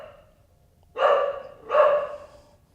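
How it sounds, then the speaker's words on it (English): A seven-year-old border collie mix at a county adoption shelter barks twice, close and loud, with about a second between the sharp barks. "That's a good dog."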